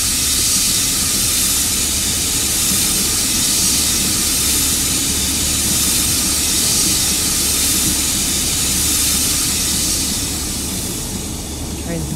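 Steady, loud hissing rumble of a train braking in Train Sim World on the Northern Trans-Pennine line in driving rain, continuous and even, easing slightly at the end.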